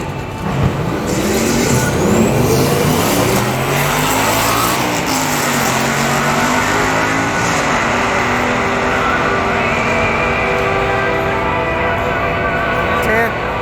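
An LS-swapped car on a 240 subframe accelerates down a drag strip at a fall import meet, a steady loud engine roar holding for over ten seconds with people talking over it and crowd noise.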